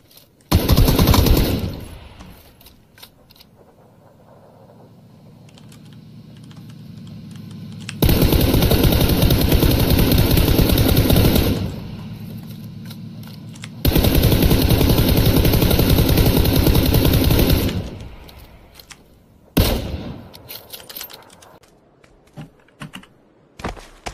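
Gunfire in PUBG comes in several long, loud automatic bursts, each lasting a few seconds, with quieter gaps and a short final burst.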